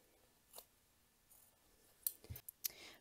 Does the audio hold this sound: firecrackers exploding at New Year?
no